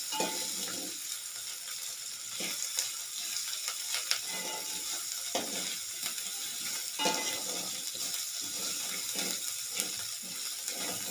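Fenugreek seeds sizzling in hot oil in a pan for Andhra-style pappu saaru, a continuous close hiss with periodic scraping stirs and small clinks, no talking.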